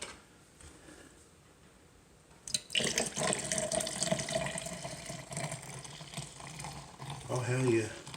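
Coffee poured from a pot into a cup begins after a quiet moment as a sudden, close splashing stream that runs on steadily, with a voice briefly heard near the end.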